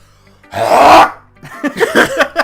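A single person sneezes loudly and close up, one sharp burst, followed by a moment of quiet and then talking.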